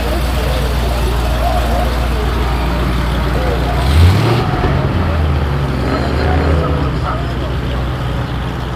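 A car engine revs nearby at a car cruise, a rising low roar that swells and drops around the middle over steady traffic noise, with people talking in the background.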